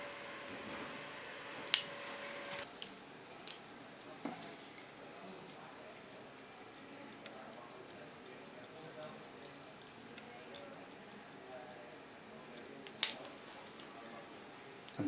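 Scissors snipping hair during a salon cut and colour, heard as sparse, quiet metallic clicks with a couple of sharper snaps over a soft background hiss.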